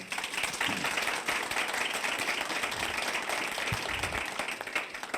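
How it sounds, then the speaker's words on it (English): Applause for two candidates at a county election forum, an even round of clapping from a seated audience lasting about five seconds, faint voices barely present. "Please give them both a round of applause."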